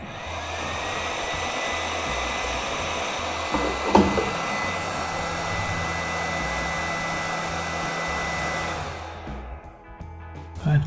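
A Yihua 878D hot air rework station blows a continuous airy hiss with a steady fan hum and a faint click near the middle, then the airflow drops away near the end.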